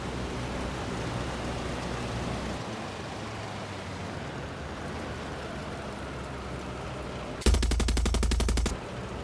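A single rapid burst of automatic gunfire from the video game Far Cry 6 lasts about a second near the end, rising sharply over a steady bed of hissing ambient noise.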